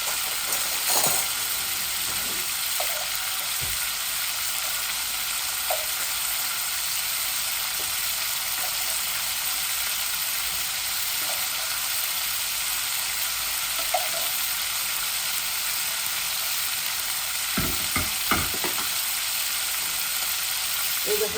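Eggs and potatoes fry in a pan with a steady, even sizzle that fills the whole stretch, broken by occasional soft clinks and scrapes of stirring.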